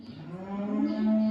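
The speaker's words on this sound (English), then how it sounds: "Cows are obviously hungry and giving out there" A hungry cow on a farm lets out a single drawn-out moo, rising and swelling toward the end, fairly close and clear with no talk over it.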